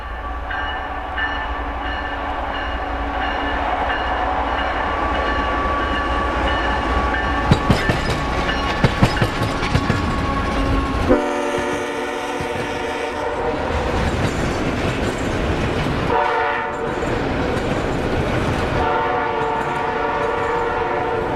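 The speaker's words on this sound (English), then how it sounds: "NS 287 at milepost 183 heads west with a single CSX unit for power." A westbound Norfolk Southern freight train led by a single CSX locomotive rolls past at milepost 183 on the Dayton District, loud and close. Its horn sounds in long blasts over steady rumbling and wheel clatter, with no talk.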